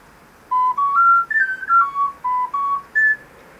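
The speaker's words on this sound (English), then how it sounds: "I also carry my little ocarina with me." A Songbird sea ocarina played outdoors on a patio, a pure breathy tone stepping through a short melody of separate held notes, close and clear over a quiet background.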